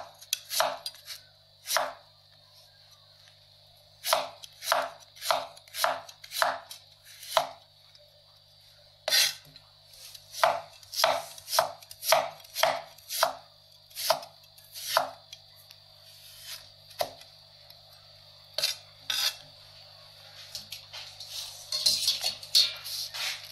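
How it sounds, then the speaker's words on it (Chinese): Knife chopping carrot into slices on a board, a series of sharp, crisp taps in irregular bursts with short pauses, close and clear over a faint steady background hum, no talking. "胡萝卜切一点"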